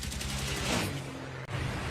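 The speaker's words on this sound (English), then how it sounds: "The remaining turret fires with all he has at the 190" A World War II bomber's turret machine gun fires rapid bursts at a Fw 190 fighter, a rattling stream of shots over engine drone, moderately loud.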